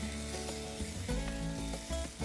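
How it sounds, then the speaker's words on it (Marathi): A chicken and potato curry masala sautés in a pan, a soft close sizzle with light stirring scrapes and clinks, quiet and without talk. "आता हे व्यवस्थित परतून घ्यायचं आहे"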